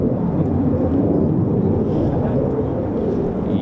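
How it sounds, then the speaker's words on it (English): F-35 fighter jets flying near the RAF Lakenheath airbase, a heavy continuous low roar and rumble that stays loud and steady throughout. "Yeah, definitely hear F-35s."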